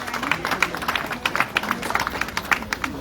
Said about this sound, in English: Please, a round of applause for the production team